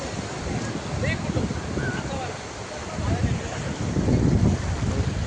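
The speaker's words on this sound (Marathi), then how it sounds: "सध्या भरतीचा टाईम आहे. पाणी खूपपर्यंत फुटपर्यंत आलेलं आहे" Sea water at high tide washes and surges near the shore with wind buffeting the microphone, a rolling rumble that swells louder toward the end.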